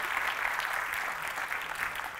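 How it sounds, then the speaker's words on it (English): Conference audience gives a round of applause during a developer talk, a brief burst of many hands clapping at moderate volume, steady and unbroken. "give a round of applause"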